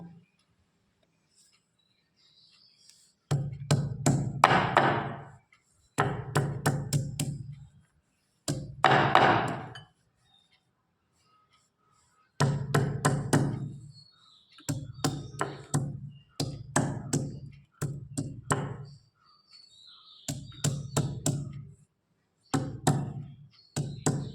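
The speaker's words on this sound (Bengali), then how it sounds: "এবারে আগে এই মানকচুটা বাটবো" Giant taro (mankochu) is pounded into paste in repeated bursts of rhythmic, close thudding strokes, each run lasting a second or two, separated by short quiet pauses.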